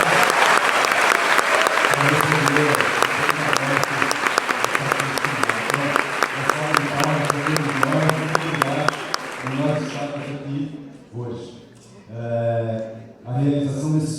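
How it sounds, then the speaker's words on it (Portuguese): An audience at a talk applauds loudly in a sustained burst of clapping that tapers off after about ten seconds, followed by someone speaking into a microphone with scattered claps between his words. "acho que a gente podia fazer uma salva de palmas para nós mesmos"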